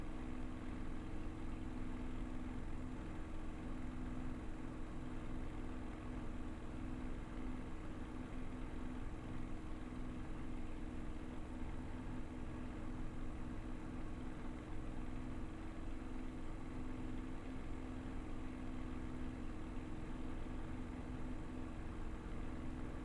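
A Spitfire aircraft engine runs at 2650 RPM, giving a steady, unbroken drone with a strong low hum that holds at an even level throughout.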